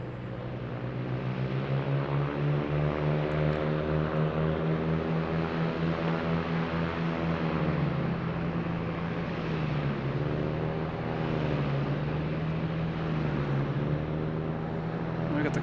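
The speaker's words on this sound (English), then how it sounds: "The classic prop sounds of an A330." Airbus A330-900 airliner arriving from Paris at Boston Logan Airport, its engines giving a steady, loud droning roar with wavering pitch throughout, close by and continuous.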